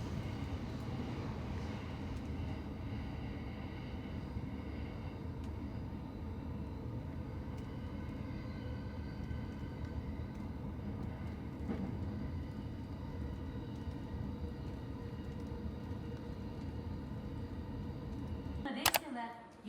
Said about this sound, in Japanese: 電車は4両編成でホームいっぱいに停まります